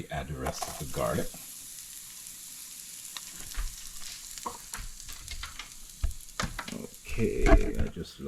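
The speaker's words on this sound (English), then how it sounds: "So we're sizzling with some garlic" Garlic and cumin sizzle and fry in a pan with hot oil, a steady crackling hiss that swells with stirring near the start and end, heard up close with no talking.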